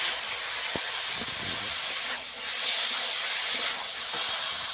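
Kuche fish frying with spice masala in a pan, giving a steady loud hiss and sizzle with faint scraping, no voices.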